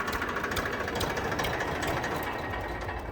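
An Indofarm 4x4 tractor fitted with a Massey engine idles steadily nearby, a continuous even diesel rumble with a faint rhythmic knock and no pauses.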